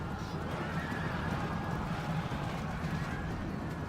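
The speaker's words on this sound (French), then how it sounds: "Pourquoi j'attaque avec mes chevaux?" Horses neigh and their hooves gallop across a Roman battlefield in the strategy game Rome: Total War, forming a dense, continuous cavalry din with no pauses.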